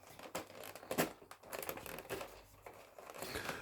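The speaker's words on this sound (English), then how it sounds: "This is why I actually bought scissors, because otherwise I will not be able to get into this silly box." Cardboard packaging of a Lego Dots box being cut open with scissors, faint close crinkling, snipping and tearing in irregular bursts.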